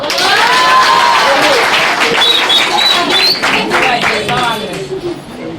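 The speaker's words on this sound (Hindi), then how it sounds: "क्या बराबर गंगूबाई के लिए तालियां तो बजाओ" Audience applause at a college Diwali event with a fashion show and student performances, steady dense clapping mixed with crowd noise and scattered cheers, holding loud throughout.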